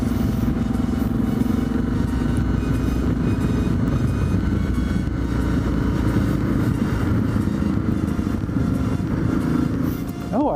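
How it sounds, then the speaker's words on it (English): Dual sport motorcycle fitted with a Leo Vince V3 exhaust and quiet baffles, riding a road with a steady engine drone and rumble, continuous and fairly close, with wind noise and no speech. "So I have a Leo Vince V3 exhaust on here, and I do have the quiet baffles in"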